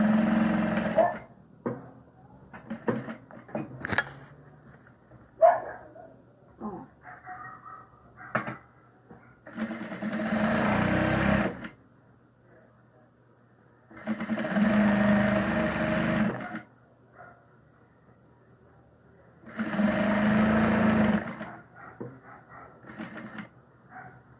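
Sewing machine running a straight stitch in three long, even bursts of a few seconds each, with quieter handling clicks and fabric shuffling between them, close up.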